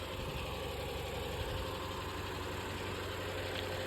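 Eicher truck diesel engine left idling after a battery change, a steady low rumble with faint knocking that holds constant throughout, moderately distant and without voices.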